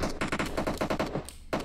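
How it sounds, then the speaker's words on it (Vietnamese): Rapid bursts of gunfire in the PUBG Mobile battle royale game, a quick run of sharp repeated shots with brief gaps between them, fairly loud and with no talk over them. "tiếng súng ở hướng ấy nhỉ"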